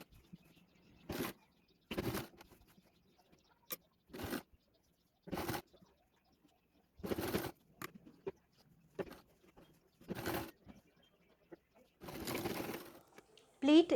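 A sewing machine stitches pleats into a saree in short, separate bursts, about ten quick runs broken by silent pauses, close and fairly loud.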